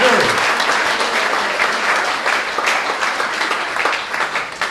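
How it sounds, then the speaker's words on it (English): An audience at the UK finals of the World Chocolate Masters applauds the jury's honorary president, a hotel chocolatier's chief executive. Loud, dense clapping holds steady, then thins slightly into more distinct individual claps toward the end. "a round of applause for Angus Thirlwell"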